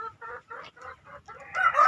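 Free-range village chickens cluck in a steady run of short, rhythmic calls at close range, several birds overlapping and growing louder and busier toward the end, with no talk.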